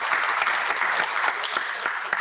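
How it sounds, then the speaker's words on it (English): A lecture audience claps for a visiting chemistry speaker, a moderately loud, continuous patter of hands with individual claps standing out. "And let's clap once for Dr."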